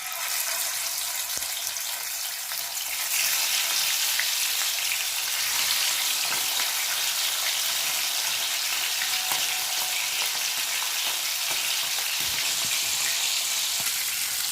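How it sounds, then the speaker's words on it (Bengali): Pomfret fish sizzles and fries in hot mustard oil in a kadai, a steady, loud crackling hiss that swells just after the fish goes into the oil and continues alone. "মাছগুলো তেলের ভিতর দিয়ে দিচ্ছি"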